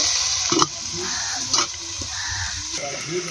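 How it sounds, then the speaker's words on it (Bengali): Vegetables sautéing with ground chili in a covered pan, giving a steady close sizzle with a few soft scraping stirs, no talk. "বেটে রাখা লঙ্কা দিয়ে দেবো। ঢাকা দিয়ে কষিয়ে নেব।"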